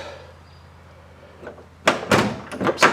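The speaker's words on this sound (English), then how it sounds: "When I open the doors" A 1966 Ford Mustang coupe's door unlatches and swings open with a few solid clunks and thuds, close by after a quiet moment of low rumble.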